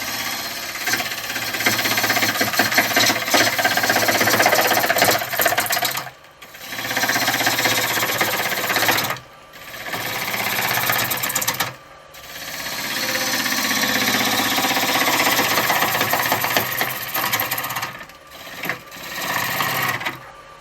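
A wood lathe spins a rough, winged workpiece while a tool cuts away its top, giving a loud, rattling, chattering drone broken by several short pauses where the cutting stops.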